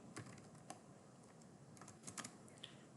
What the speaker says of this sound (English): I'll type my instance name